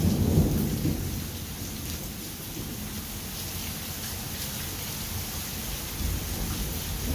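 A thunderstorm rumbles with a deep roll of thunder at the start, then steady heavy rain keeps pattering on surfaces in a dense, even hiss throughout, with no one speaking.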